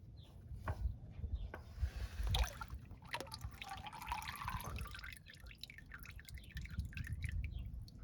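Oil draining from the engine of a 1995 Chevy 1500 pickup during an oil pump replacement, with quiet irregular drips and a thin trickle nearby and no talking.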